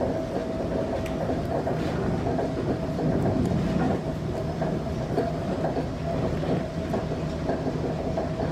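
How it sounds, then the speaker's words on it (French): A metro train running, with a continuous loud rail rumble and faint clickety-clack of wheels over the track and no voices. "ils prennent le métro"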